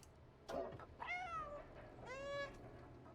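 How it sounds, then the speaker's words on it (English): Two clear, plaintive cat meows from the video game Stray, each rising and falling in pitch, close and fairly loud with no speech over them. "The Meowdy sounds very distressed."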